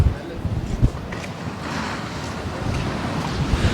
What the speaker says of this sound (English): I think it's too windy